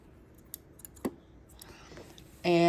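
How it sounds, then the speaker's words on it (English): A few sharp snips of scissors trim loose threads, close and brief, followed by a sudden louder mechanical buzz at the end. "now we're going to trim off these threads"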